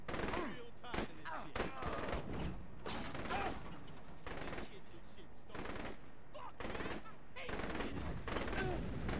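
Gunfire in Saints Row: The Third Remastered, with dense bursts of rapid automatic shots, mechanical clatter and brief pauses, loud and continuous over several seconds.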